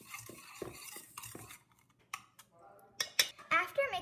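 A whisk or spoon stirs sugar and butter in a bowl, giving a run of quick scraping and clinking strokes against the sides, close and fairly quiet, with brief pauses between bursts.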